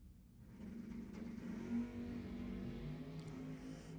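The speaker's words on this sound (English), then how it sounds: "big wheel stand for Nell." A drag racing car launching with a wheel stand at Lebanon Valley Dragway gives a steady, droning engine roar that swells briefly midway and then holds, heard from a distance.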